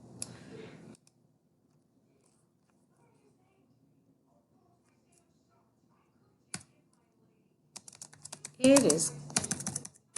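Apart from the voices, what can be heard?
typing on a computer keyboard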